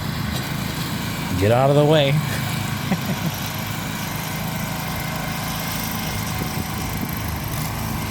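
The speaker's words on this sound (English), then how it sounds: "There's me mowing." A lawn mower engine drones steadily while mowing a yard, a constant close hum throughout, with a person's brief shouted words over it near the start.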